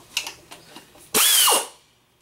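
A hand ratchet clicks several times while snugging down the transmission nuts on a 1976 VW Bus, followed by a sharper burst of metallic ratcheting, close and crisp.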